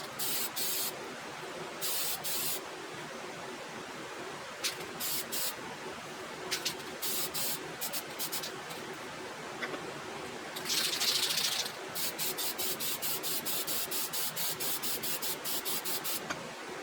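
Spray gun laying down a coat of paint, short bursts of hiss in a broken rhythm with pauses between, a longer spray mid-way and rapid repeated short sprays toward the end, fairly quiet overall.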